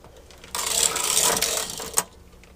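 A knitting machine carriage slides across a row of yarn in a short-row pass, a continuous brushing, rasping run lasting about a second and a half with a sharp click at the end, close and alone.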